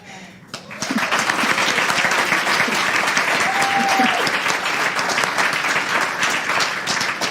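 An audience at a chamber music evening breaks into sustained applause, a dense, loud wash of clapping that starts abruptly and carries on evenly, with faint voices beneath.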